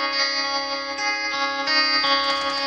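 A high-strung Strat-style electric guitar from Gatto Guitars rings out with shimmering tremolo, reverb and delay. It plays sustained, bright chord tones in a steady pulse with no talking, close and full.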